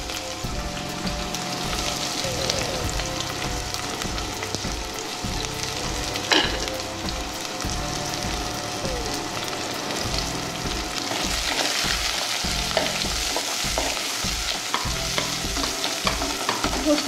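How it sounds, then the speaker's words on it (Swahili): Onions frying in hot oil, a steady dense sizzle with repeated stirring scrapes and clinks close by, continuous throughout. "tunaanza kukaanga sasa"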